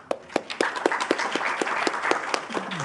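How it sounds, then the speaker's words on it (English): Applause from a conference audience for the speakers at a session on Sudan, a steady run of distinct claps with sharp individual hits, moderately close, lasting about three seconds with no talking. "Applause for them, please."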